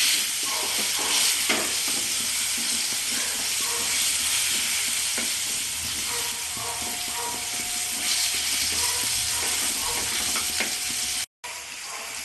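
Potato pieces frying in oil with turmeric for a Bengali-style gule fish dish give off a loud, steady sizzle and hiss, broken by occasional scrapes and stirring clatter, with a short drop near the end.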